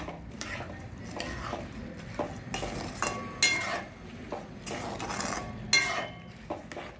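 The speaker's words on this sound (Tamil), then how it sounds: "திராட்சை எல்லாத்தையும் நம்ம சேர்த்துட்டு நல்லா கிளறி விடணும்." A spoon stirs fried boondi with raisins and cloves in sugar syrup for laddu. Soft repeated scraping and clinking strokes against the pot come in an irregular rhythm, close but quiet, with no voices.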